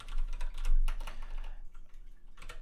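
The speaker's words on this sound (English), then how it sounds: "Apologies again for my typing" Quick bursts of typing on a computer keyboard while editing code, close and crisp key clicks in uneven clusters with short pauses, no talking.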